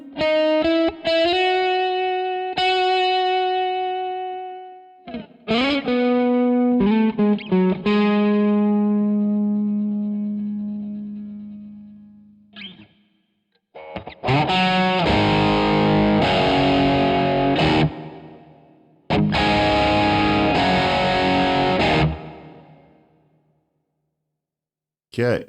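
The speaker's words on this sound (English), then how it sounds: "that is the sound of a sort of light drive." Electric guitar with light overdrive running through a Boss NS-1X noise suppressor, plucked single notes and sustained chords ringing out and decaying, then two loud strummed chords that cut off cleanly into silence.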